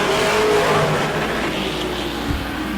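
Pro racing truck engine on a qualifying lap at Auburndale, a steady loud drone that holds at near-constant level with a faint whine throughout, no talk over it.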